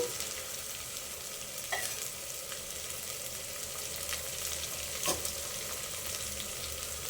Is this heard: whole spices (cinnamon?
yes